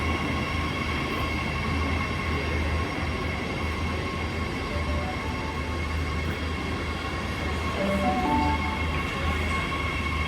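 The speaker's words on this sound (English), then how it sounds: "So here is the train departing from both angles." A Sydney NIF D set electric train departs a station platform, a steady low rumble and whining motor hum with faint wheel noise, fairly loud and continuous with no talk.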